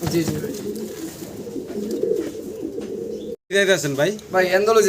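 Fancy pigeons coo in low, throaty, rolling calls close by. The calls continue steadily through the first half, then a louder burst of cooing follows a brief gap.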